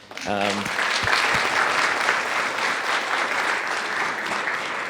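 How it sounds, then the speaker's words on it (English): An audience at a leadership and workplace culture panel event gives a steady, sustained round of applause, with a short spoken voice at the very start. "another round of applause, please, for our panel"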